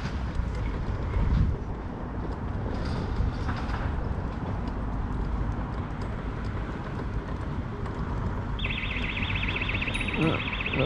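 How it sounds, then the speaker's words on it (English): Alarm tone near Fountain Bridge on Edinburgh's Union Canal, a steady high beeping that starts late and continues through the end, over loud wind rumble and outdoor noise. "The alarm's going off."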